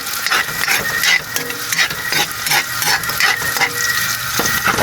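Garlic frying in oil until golden brown for a Jollibee-style spaghetti sauce, a steady dense sizzle with scraping stirs and light spatter throughout, close and loud, no voices.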